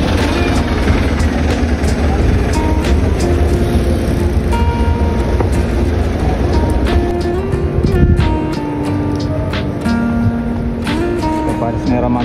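Traffic at Jaurès in Paris with a number 26 city bus coming and going, a continuous rumbling drone of engines and passing vehicles close by, changing pitch as one vehicle moves off near the end.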